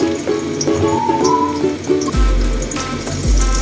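Garlic and shallots frying in oil for Indonesian sambal bawang: a loud, close, continuous sizzle with crackling pops, and a clattering thump partway through as if from a pan or utensil.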